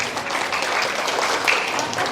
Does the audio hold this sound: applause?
yes